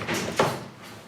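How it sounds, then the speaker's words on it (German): An office door swings shut with a soft thump and a brief slide in a quiet room, one short muffled close. "schließen Sie die Tür."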